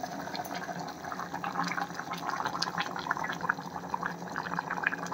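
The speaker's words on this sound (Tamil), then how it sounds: "தண்ணி திரும்பவும் கொதிக்க ஆரம்பிக்குது" Water returns to a boil in a pot with rice while making mushroom biryani: quiet bubbling and gurgling, with soft irregular pops over a low steady hiss.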